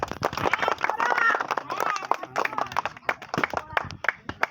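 An audience at a Bangla party game claps along in a lively, uneven burst of many hands, sharp and close, with voices and shouting mixed in throughout and the clapping thinning out toward the end.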